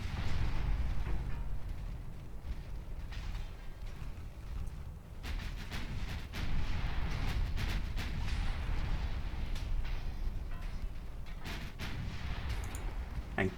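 Naval gunfire from warships in a game battle against destroyers, a dense continuous roar with repeated heavy booms and sharp cracks layered over rumbling sea noise, loud and sustained throughout.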